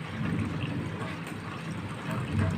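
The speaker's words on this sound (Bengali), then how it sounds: "দেখুন, জল ঝেড়ে নিচ্ছি কীভাবে।" Water being shaken and drained from boiled chow mein noodles for a Chinese-style egg chow mein, a steady rushing, splashing wash of water running close by for the whole moment.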